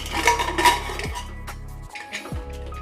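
Metal clatter and scraping as a pressure cooker lid is worked open after cooking beef, with a couple of sliding metallic sweeps and a brief hiss-like noise.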